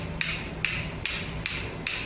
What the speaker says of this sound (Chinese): 这样敲打啊，敲的时候不用敲得太快啊